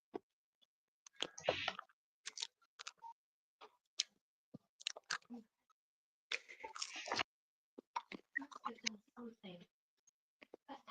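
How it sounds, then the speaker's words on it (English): Someone eating crunchy food makes irregular crisp bites and chewing crackles, close and fairly faint, in short bursts separated by silence. "I hope you guys can't hear me crunching."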